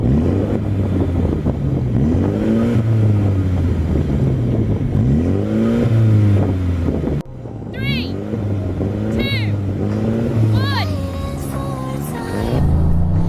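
A MINI GP car engine revs steadily with rising and falling pitch over a low rumble, continuous throughout, with a few high squeaky tones near the end.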